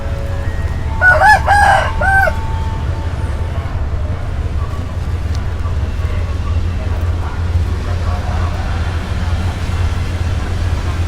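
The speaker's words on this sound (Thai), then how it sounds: "เลี้ยงไก่ตีด้วยนะครับ" A fighting rooster crows twice in quick succession, fairly clear against a constant low rumble of traffic or machinery at a railway station that continues afterward.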